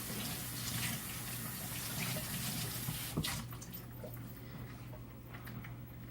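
Tap water running into a kitchen sink while boneless, skinless chicken tenderloins are rinsed, a steady close splashing gush that grows softer and thinner toward the end.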